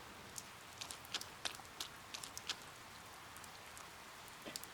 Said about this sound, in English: It began raining.